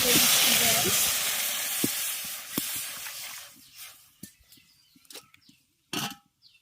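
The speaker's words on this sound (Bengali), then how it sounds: "এবার কলাটাকে সেদ্ধ করে নেব তার জন্য কড়াই মধ্যে" Bananas with their peels on, boiling in water in a wok, start with a loud steamy hiss that gradually fades, followed by sparse clinks and knocks of utensils.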